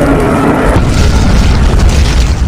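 A firecracker blast in a horror film scene, a loud booming burst that fills the first moment and then rolls off into a sustained low rumble with debris-like noise.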